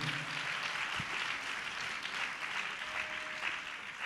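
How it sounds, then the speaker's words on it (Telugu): A church congregation at a Telugu sermon claps in praise of God, a dense, even wash of applause sustained throughout without any speech. "చప్పట్లు కొట్టి దేవుని మహింపరుద్దాం గట్టిగా"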